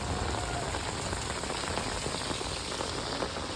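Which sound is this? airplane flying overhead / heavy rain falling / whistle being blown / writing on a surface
heavy rain falling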